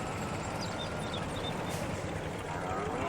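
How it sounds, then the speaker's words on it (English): Steady mechanical engine drone from a farm vehicle in Farming Simulator 22, a continuous broadband rumble holding at an even level throughout with no pauses. "I like the engine sound."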